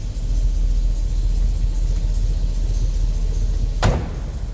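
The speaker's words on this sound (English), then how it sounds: "Door closes nicely." A single sharp thump of a 1964 Chevrolet Impala SS two-door hardtop's door shutting near the end, over a steady low engine-like rumble.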